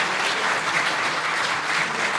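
Sustained audience applause for performers at a Lincolnshire songwriting contest, a thick, even wash of many hands clapping without a break.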